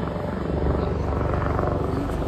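A helicopter over the Kedarnath pilgrimage route in snow drones continuously, a loud close rotor thrum and engine whine filling the short stretch.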